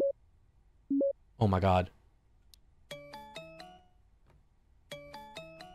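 A phone in the video game Parasocial rings with a clear melodic electronic ringtone in two repeated bursts, coming right after a short spoken exclamation.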